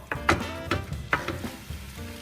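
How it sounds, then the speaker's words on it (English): Meat, onions and spices sizzle in a hot pan for a pasta sauce as a spoon scrapes and stirs them, with several distinct stirring strokes over a steady close frying hiss. "now you start moving the spices that you have added into the meat together with the onions while the heat is on"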